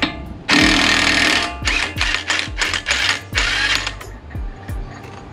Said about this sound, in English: use our 36 millimeter to take out this axle nut.